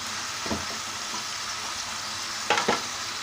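Chopped tomatoes frying in hot oil in a Bangla-style pan dish with potato leaves and fish, giving a steady, moderate sizzle broken by a few sharp utensil clanks and bursts of louder spitting.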